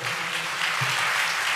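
A church congregation at a Sunday worship service claps loudly together, a dense, continuous burst of applause that fills the room.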